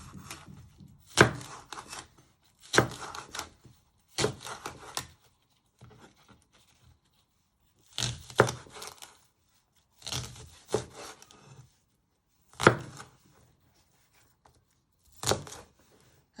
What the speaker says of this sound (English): you chop your spring onion in half. Keep it together. And you just want to finally slice it.